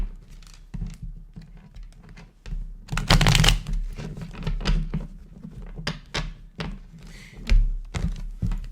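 A deck of tarot cards is shuffled up close in bursts of riffling and flapping, with soft thumps and taps as the cards are squared and set down between the shuffles.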